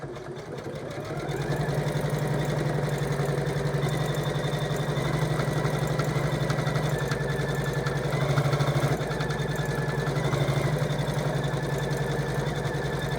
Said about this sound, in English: what the machine is going to do, and this is an option, but I like the option, it's going to do a little bit of what looks like quilting